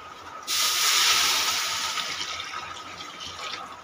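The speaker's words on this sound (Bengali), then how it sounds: "এবার গরম জল ঢেলে দিচ্ছি" Hot water is poured into a pan of mung dal with a sudden hissing splash that swells, then gradually settles into a softer steady sizzle.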